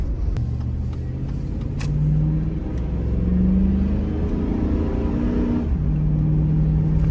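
Chevrolet Tahoe with 220,000 miles towing a car downhill in second gear, a steady low engine rumble whose pitch rises gradually before easing back, continuous and close from inside the cab.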